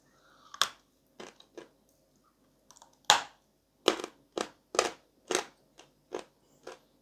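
Crisp, crunchy bites and chewing of dry Bashkir edible clay, about a dozen sharp, close separate crunches in an uneven rhythm with quiet gaps between them.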